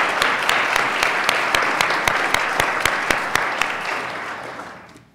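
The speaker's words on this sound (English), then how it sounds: "we should give him a round of applause" Steady applause fills a board of directors meeting room in honor of a student, with sharp individual claps standing out over the sustained patter before it fades away at the end.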